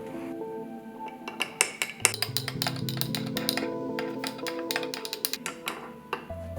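A utensil stirs dough ingredients of yeast and warm liquid in a bowl, making rapid, irregular clinks and taps against the side. Soft tonal sounds run underneath.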